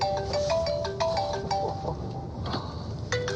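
A phone ringtone plays a bright, repeating electronic melody of short tonal notes, fairly loud and close, over a steady background hum with no talking.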